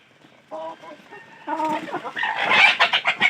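Chickens cluck close by in short, choppy bursts, growing louder and more rapid toward the end.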